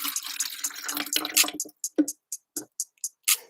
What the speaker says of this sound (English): So I've sieved it now and I'm pouring it in.